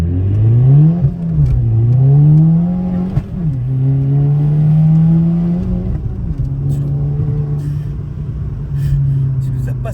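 A car engine revs hard, rising in pitch and dipping at each gear change several times in succession, then settling into a steady drone as it cruises. Voices speak over the engine.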